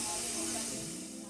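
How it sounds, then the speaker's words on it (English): Steady hiss of steam sanitizing dishes at a hot pot restaurant in Shenzhen, a continuous close spray that softens slightly toward the end. "Apparently, they steam the dishes first to help sanitize them."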